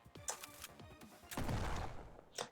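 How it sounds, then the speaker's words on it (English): Video game gunfire sounds in a quick volley of sharp cracks, followed by a longer burst and one more shot near the end, fairly faint overall. "It took only a moment for the gunshot to come."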